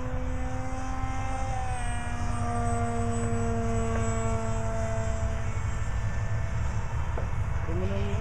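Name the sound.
remote-controlled F-18 model airplane flying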